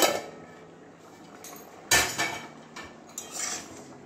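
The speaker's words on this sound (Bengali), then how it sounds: "এবারে ঢাকনাটা খুলে দেখছি ডালটা আমার কতটা সিদ্ধ হয়েছে" A metal lid is lifted off a pot of boiling mung dal, giving a few close clanks and clinks of metal on metal with a brief rush of noise between them.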